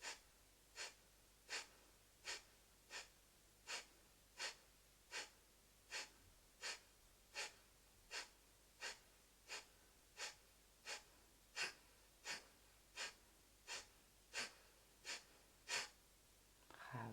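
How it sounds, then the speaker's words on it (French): Rapid Kapalabhati yoga breathing, a steady run of sharp, forceful nasal exhales about once per second, roughly two dozen in a row, close but soft, against a quiet room. "on va dire 30 respirations en Kapalabhati"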